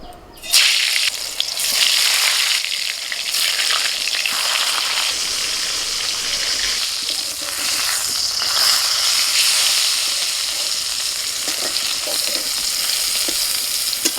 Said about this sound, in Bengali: এবার বেগুনটা ভেজে নেব। একে একে বেগুনগুলো দিয়ে দিচ্ছি।